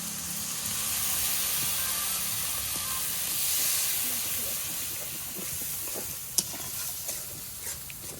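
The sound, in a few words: sautéing ground spice masala with a little water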